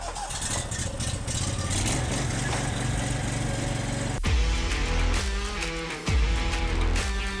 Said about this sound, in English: just basically a giant blower is what this guy does